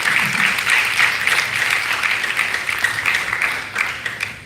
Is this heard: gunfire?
no